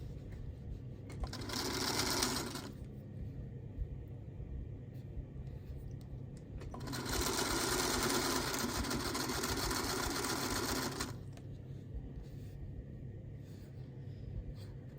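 A home sewing machine stitches quilt block pieces together in two runs, a short burst and then a longer steady whir of about four seconds, with a quiet pause between them and no talking.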